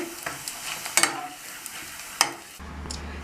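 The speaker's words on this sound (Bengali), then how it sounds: "আরও কটা আমি ভেজে নিচ্ছি।" Sabudana papad frying in hot oil, a continuous crackling sizzle with a few sharp spatters and scraping stirs, close and alone without speech.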